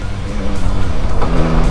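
A 2021 Yamaha MT-09 motorcycle engine revs loud and close, a dense continuous roar that surges upward in pitch over a short stretch while riding.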